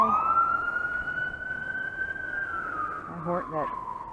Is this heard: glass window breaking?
no